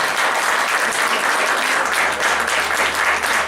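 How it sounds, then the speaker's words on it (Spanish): A church congregation claps hands together in a loud, continuous burst of applause during a Sunday service, a dense and even wall of clapping with no break. "damos un fuerte palmas a nuestro Dios una vez más"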